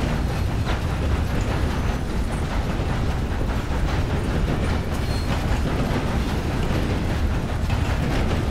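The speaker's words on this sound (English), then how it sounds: "Let's do some train surfing." A moving train in the Red Dead Redemption 2 video game, a loud, steady broadband rumble and roar that continues without a break, with no talking.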